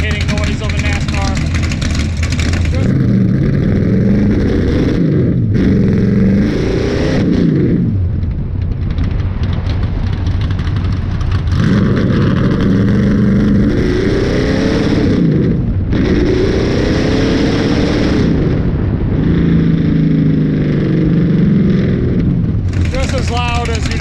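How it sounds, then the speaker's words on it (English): A retired 2004 NASCAR Nextel Cup race car's engine roars loud and close, rising and falling through several throttle revs and shifts, with talking over parts of it. "just absolutely intoxicating noise of a NASCAR"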